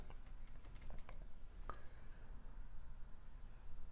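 A name typed on a computer keyboard, a short run of soft key taps early on over a steady low background hum.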